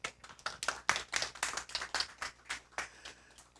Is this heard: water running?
no